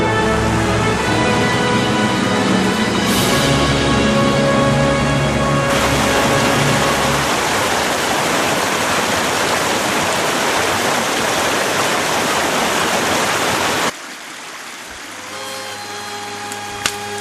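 Loud, rushing mountain river in the Carpathians in April flowing close by in a constant roar; the torrent drops away abruptly near the end, leaving quieter background.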